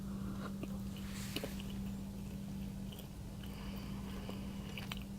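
Close, soft crunching bites and chewing on a Reptar candy bar run steadily under a constant low electrical hum, with no talking.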